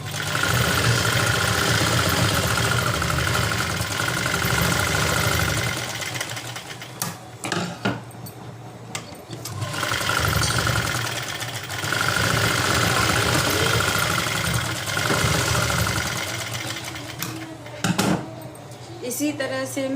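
A sewing machine runs a long straight seam along a folded fabric edge for palazzo pants, whirring loud and steady up close, with short pauses near the middle and toward the end.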